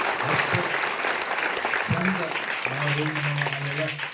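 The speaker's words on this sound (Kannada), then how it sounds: "ಅವ್ರಿಗೆ ಎಲ್ಲರಿಗೂ ಚಪ್ಪಾಳೆ ಹೊಡಿ" A crowd of school staff and guests applauds steadily at a government school event in Belagavi. Someone talks over the clapping throughout.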